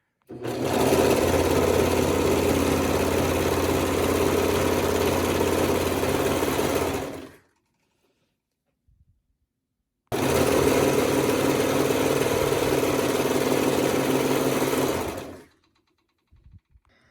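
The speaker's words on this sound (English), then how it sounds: "So I will go ahead and serge these pieces together." A serger overlocker stitching fabric mask pieces together, two long loud bursts of rapid mechanical whirring close by, separated by a few seconds of near silence with faint handling clicks.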